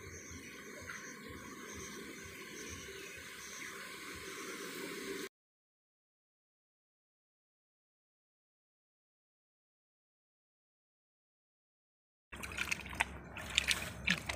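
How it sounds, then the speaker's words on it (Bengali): Meat is washed with water at pond steps, giving a soft, steady trickle and splash for about five seconds. Silence follows, then a brief stretch of faint outdoor noise. "এইখানে মাংস ধোয়া চলছে পুকুর ঘাটে, ইচ্ছে মতো জল ব্যবহার করা যায়।"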